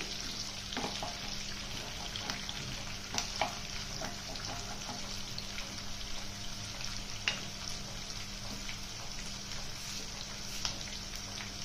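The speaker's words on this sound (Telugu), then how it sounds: "ఆనియన్స్ ని మంచిగా గోల్డెన్ బ్రౌన్ కలర్ వచ్చేంత వరకు ఫ్రై చేసుకోవాలి" Chopped onions frying in hot oil in a pan until golden brown for tomato rice, a steady faint sizzle with occasional soft pops and stirring clicks, no talk.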